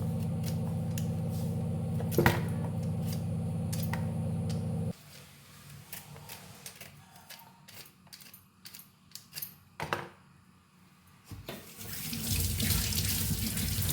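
Tap water runs steadily into a sink over peeled sweet potato, then stops; scattered clinks and handling noises follow before the water flows again.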